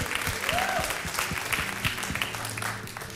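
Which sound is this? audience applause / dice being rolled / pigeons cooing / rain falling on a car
audience applause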